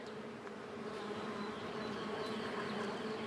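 Many bees hum continuously outdoors in spring, a dense, steady buzz with no voices.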